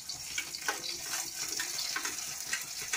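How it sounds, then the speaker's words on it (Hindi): Onions and ginger fry in a pan for pav bhaji, giving a continuous bright crackling sizzle at close range with no talk over it. "अब इसको किया जाएगा फ्राई, ज़्यादा नहीं, हल्का फ्राई करेंगे।"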